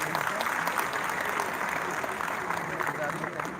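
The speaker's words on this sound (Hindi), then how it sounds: "एक बार ताली बजाइए" Audience applause at a Lohri and Makar Sankranti gathering, a continuous wash of clapping at moderate distance, fairly even throughout the short stretch.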